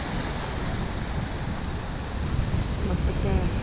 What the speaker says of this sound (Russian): Красное море. Сегодня немного штормит.